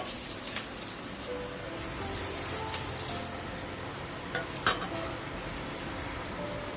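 Water is poured into a hot pan of turmeric and Kashmiri chili powder tempering for mustard hilsa, making a steady rushing, hissing flow, then a few soft knocks near the end.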